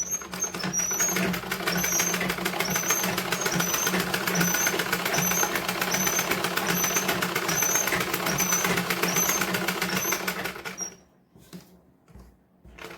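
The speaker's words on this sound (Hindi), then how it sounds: "तो आइए अब हम इसके चारों बगल से सिलाई लगा देते हैं जल्दी से।" A sewing machine runs continuously for about eleven seconds, stitching the lining fabric around the edges of a blouse with a rapid, even mechanical chatter, close and fairly loud, then it stops abruptly and near-silence follows.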